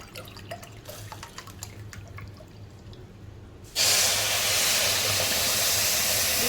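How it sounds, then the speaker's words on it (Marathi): Soft dripping and small clinks give way to a sudden loud, steady rush of water pouring into a pot of sugar for gulab jamun syrup, continuing to the end. "तितकंच आपण पाणी टाकूयात"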